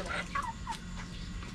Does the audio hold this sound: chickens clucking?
yes